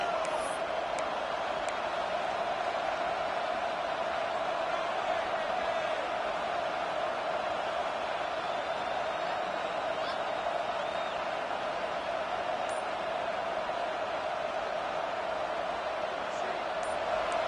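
Stadium crowd at a college football game keeps up a steady, dense roar of cheering throughout, loud and unbroken, with a commentator talking over it.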